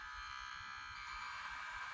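A MomMed electric vacuum baby hair clipper runs alone at close range, giving a steady, quiet motor hum with a fine high buzz that holds even throughout.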